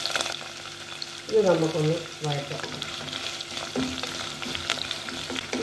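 Shallots and green chillies frying in a pan, a close steady sizzle with stirring scrapes while someone speaks briefly over it.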